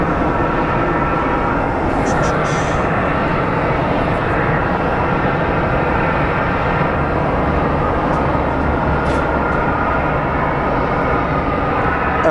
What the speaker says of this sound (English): So let's see where exactly this plane is headed.